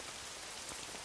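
Rain falls steadily in a continuous, even hiss, with no breaks or other sounds.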